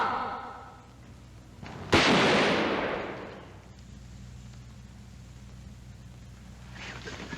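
A single loud gunshot cracks out after a shouted order to halt, its boom decaying over about two seconds against a low background rumble, with a faint muffled second report later.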